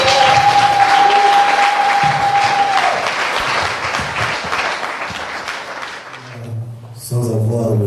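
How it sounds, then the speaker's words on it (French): A church congregation at the Assemblée chrétienne de Bâle breaks into dense, loud applause that holds for about six seconds and then fades out, with no voices above it. "Si je t'ai fait du bien, acclame"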